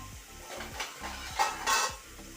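Squid cooks with onions in a pan, soft sizzling under a series of quick spatula scrapes and clinks against the pan, close and brief.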